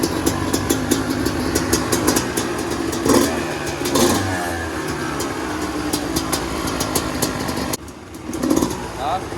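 Two dirt bikes, a TRI-Z 250 and a KTM 300, run together outdoors at a steady warm-up idle with occasional blips, loud and close throughout, with people talking over the engines.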